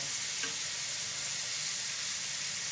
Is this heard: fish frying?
yes